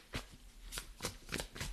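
Tarot cards being shuffled by hand, several quick riffling bursts at a steady pace, close and quiet with no voice.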